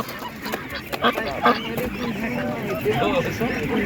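Ducks quack and honk in a busy jumble at an animal market, several birds calling close by in short overlapping bursts, with people talking in the background.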